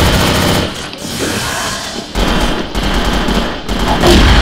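Rapid automatic gunfire from a gun in a Vietnamese-played CrossFire match, sustained bursts rattling loudly and almost continuously with brief pauses, dense mechanical chatter throughout.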